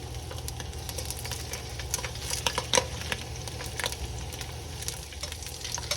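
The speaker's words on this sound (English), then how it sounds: "we're gonna brown our sausages about 7 to 10 minutes" Sausages brown in a hot pan with a steady, close sizzle and frying crackle. Scattered sharper pops and a brief stir-like clatter sit over the sizzle, with no talking.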